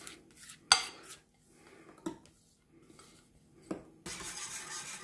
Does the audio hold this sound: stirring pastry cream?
yes